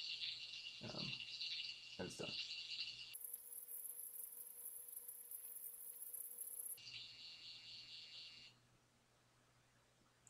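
An STC-1000 temperature controller emits a shrill, steady high-pitched whine while its firmware is flashed, loud and continuous for several seconds before dropping in level; a voice briefly speaks near the end.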